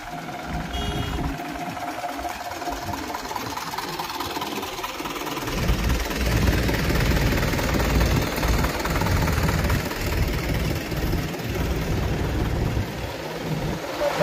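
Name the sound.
cement supply machine engine running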